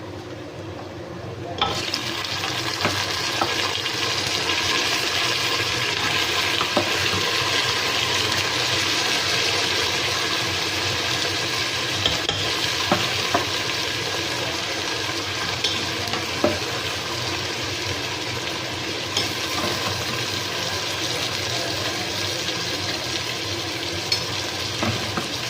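Mutton fries and is stirred in a pot on low heat, a steady close sizzle running throughout with occasional scrapes and clinks of the spoon.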